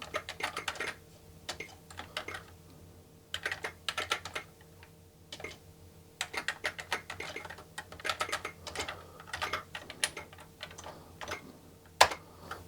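Keys clatter on an Atari 520 ST computer keyboard in irregular bursts of close, crisp typing, with short pauses between runs of keystrokes and one sharper click near the end, no voices.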